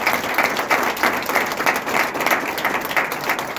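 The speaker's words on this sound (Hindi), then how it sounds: "मैं तालियां चाहूंगा एक बार जोरदार" Loud, enthusiastic applause from a seated audience at a motivational speech event, dense clapping pulsing steadily throughout and filling the room, with no voices heard.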